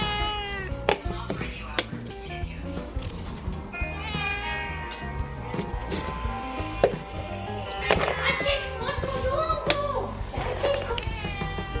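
Several house cats meow repeatedly in a busy indoor home setting, the calls rising above clatter and bumps, with people talking around them.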